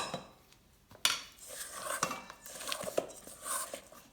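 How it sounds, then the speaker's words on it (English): A scraper clears focaccia dough from a spoon and mixing bowl, making light intermittent scrapes and clinks, quiet at first and then a run of busier scraping and tapping against the bowl. "And with a scraper, scrape the spoon"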